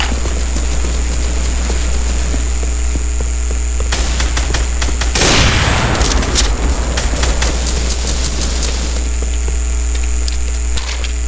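Sniper rifle shots in the Roblox game sound as a few sharp cracks over a loud, steady mechanical hum, with a brief noisy burst in the middle.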